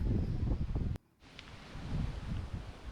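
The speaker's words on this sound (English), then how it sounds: "So you can tell it was quite windy." Gusty wind blows outdoors through the Buddha Eden Garden of Peace in Portugal, a steady broadband rush that cuts out briefly near one second and then builds back, with no talk.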